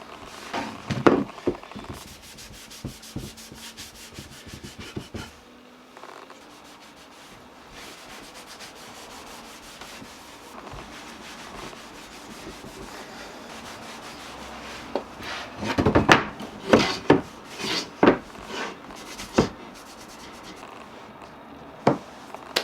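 Wax finish rubbed by hand onto a wooden table made from offcuts, soft intermittent rubbing with scattered sharper scuffs and taps, close, growing busier toward the end.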